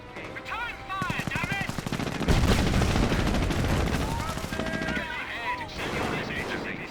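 Bursts of rifle and machine-gun fire crackle through a Company of Heroes 1 battle between British and Wehrmacht forces, with dense rattling volleys and heavier thuds building to a sustained mid-clip barrage before tapering off.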